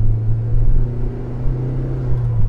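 A Nissan X-Trail T30 SUV accelerates hard, its engine giving a steady loud low rumble and drone close by throughout, with no talking.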